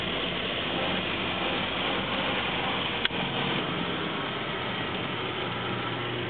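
A 1934 Morris 10 Convertible engine runs at a steady low idle, a constant broad rumble with one sharp click near the middle and no voices.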